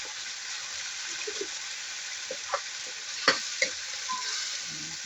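Sardines frying in a pan for pancit, a steady soft sizzle throughout with a few stirring clinks and scrapes of a utensil against the pan, faint and close.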